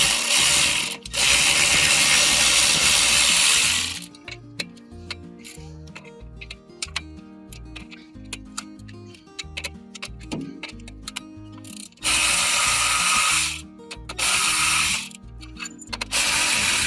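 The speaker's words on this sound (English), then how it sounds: "You're going to want a 10mm socket, and we'll take the spring cover off the primary clutch." A hand ratchet turning a 10mm socket to back out the spring cover bolts on the primary clutch of a Polaris RZR Pro XP Turbo, with dense clicking bursts broken by quieter pauses and sporadic ticks.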